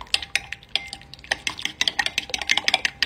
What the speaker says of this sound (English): Gotta give it a good mix.